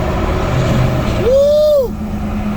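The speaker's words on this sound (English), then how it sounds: "that's the semi-truck that's behind me" A semi-truck travels alongside on a highway under steady road and engine rumble, and a loud, rising-then-falling horn-like tone sounds for under a second near the end.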